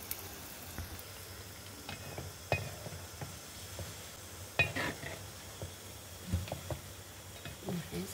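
Sweet jackfruit batter for Udupi-style mulka drops into hot oil and sizzles, with soft scattered splashes, stirring and utensil taps over a steady low frying hiss.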